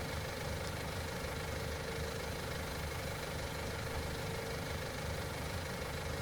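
A tractor engine idles in Farming Simulator 19 with a steady, even drone and a faint rumble that holds at a constant level throughout.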